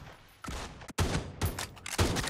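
Gunfire in the mobile battle royale game PUBG Mobile: several loud, close bursts of rapid shots in quick succession, with brief gaps between them and no voices.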